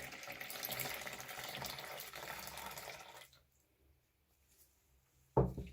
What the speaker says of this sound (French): Je vais prendre de l'eau, puis je